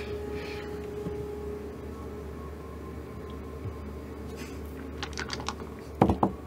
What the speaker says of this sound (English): Sounds like a dice.